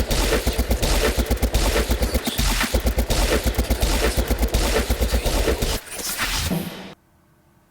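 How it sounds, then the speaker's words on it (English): A machine-gun-like, fleshy rhythmic sound from a song: dense, rapid stuttering hits that pound on loudly for about six seconds before cutting abruptly to near silence. "It's halfway between a machine gun and flesh."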